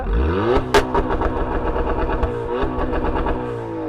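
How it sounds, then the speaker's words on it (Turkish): A Volkswagen Jetta engine revs hard and stutters against the rev limiter at about 4500 rpm, a rapid loud crackling bounce with popping bursts, close by. "Bir kesici yapacağız şimdi. Yap bir kesici."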